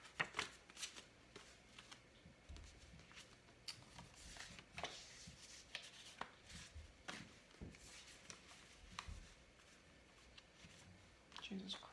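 Tarot cards being shuffled by hand in a quick run of soft riffling and patting bursts at close range, with a person speaking quietly underneath.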